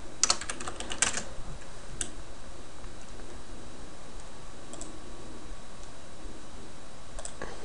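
Rapid typing on a computer keyboard during a 2012 gaming PC build, with dense, close key clicks in an uneven rhythm that is heaviest in the opening second and then thins to scattered taps.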